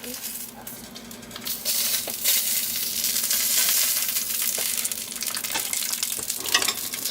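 Zucchini and mixed vegetables frying in a pan make a continuous close sizzle that swells and settles, with a few utensil clicks and scrapes over the top.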